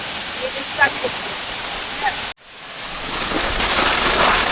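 The main waterfall on the Boalia trail near Mirsharai pours down in a steady broadband roar, with an abrupt break partway through before the rushing water returns, louder and closer.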